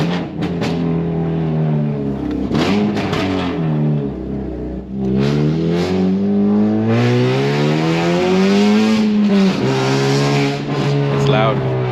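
A Honda Civic with a loud new aftermarket exhaust revs hard and repeatedly, its engine note rising and falling in strong sweeps with a brief dip in the middle; it is close, loud and aggressive.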